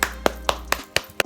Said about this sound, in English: We gotta stand up and applaud.